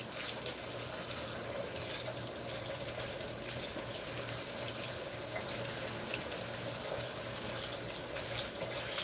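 Running water rinsing hair at a salon: a steady, broad hiss of flowing water from a sink spray, continuous and fairly faint throughout, with no talking.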